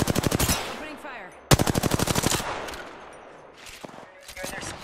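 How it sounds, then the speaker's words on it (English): Rapid automatic gunfire in a video game rattles out in two loud bursts, a brief pause between them, followed by a fainter scattered shot or two near the end. "Opening fire."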